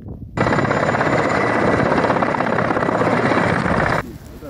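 A helicopter loaded with explosives for breaking up a river ice jam thunders close by, its loud rotor chop starting abruptly, holding steady for several seconds, then cutting off to quieter background.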